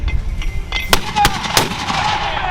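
Several sharp, loud blasts of mortars firing in a volley ring out in quick succession, each a sudden crack followed by a short echoing decay, at a mortar battery during training fire.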